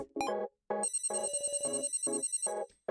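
A bright electronic alarm from a collar in the video game Your Turn To Die rings out in repeated pulsing bursts, loud and close, with short gaps between rings.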